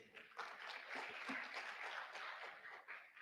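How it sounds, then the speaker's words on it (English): Audience applause at a book launch and closing session, scattered clapping from a modest crowd, quiet and distant, with uneven bursts across a few seconds. "A round of applause for him"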